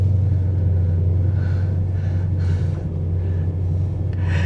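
A BMW M3 E92 GTS launching and accelerating, heard as a loud, deep, steady engine rumble with a continuous low drone and some rising roar, close and without talk.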